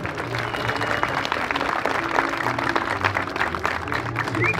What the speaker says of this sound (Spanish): Regálame el aplauso y le echamos ganas. Fuerte las palmas.